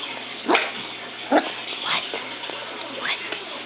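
A puppy gives a few short, high yips and barks spaced out over a few seconds, fairly close, with faint background hum.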